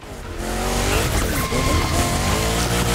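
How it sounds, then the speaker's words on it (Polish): Screeching tire skid as a car drifts under the handbrake in The Crew Motorfest racing game, a loud continuous squeal over engine roar lasting the whole stretch, with no talk. "I tak wygląda zaciągnięcie hamulca ręcznego."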